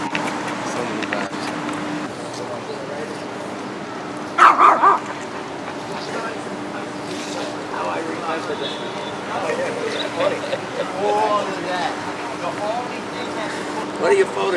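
A dog gives a short burst of barks partway through, set against steady street noise and someone talking.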